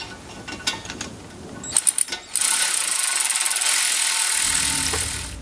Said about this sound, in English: install your 10 millimeter bolts